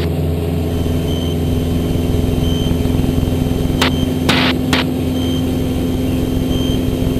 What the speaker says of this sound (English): Then the aircraft accelerate through 90 knots.